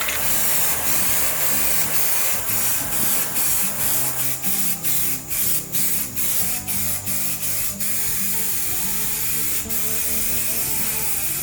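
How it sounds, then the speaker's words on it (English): A spray gun lays high build primer onto a truck spoiler, a loud, close, continuous hiss broken by short rhythmic pauses and pulses as the passes are made, with no talk. "We are using high build primer to fill in some of the imperfections that are bound to be there."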